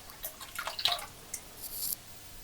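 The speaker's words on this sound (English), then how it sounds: "I'm just going to pour it all in." Frozen fish food poured into aquarium water, giving a soft, close run of splashy drips and plops over about two seconds, with a last brief splash before it fades to quiet.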